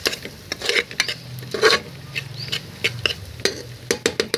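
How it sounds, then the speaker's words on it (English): A spoon scrapes and clinks against a pan while masalas are stirred into rajma khichdi, with irregular close stirring strokes and light metallic taps. "after adding these masalas, I'm going to mix it completely well."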